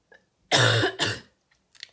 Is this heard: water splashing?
no